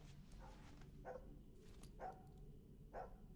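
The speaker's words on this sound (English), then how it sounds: "You hear that barking" Dog barking ambience in a video game, three or four distant, faint barks spaced about a second apart over a low steady background hum.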